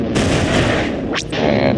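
Blaster cannon fire in the Star Wars Galactic Battlegrounds strategy game, a dense continuous roar of rapid energy blasts with a sharp zapping streak near the middle, loud and unbroken.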